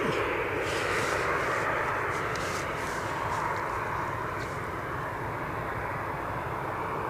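Aircraft on approach to Edinburgh airport, a steady distant roar of jet engines holding a broad, constant rumble with no talk over it.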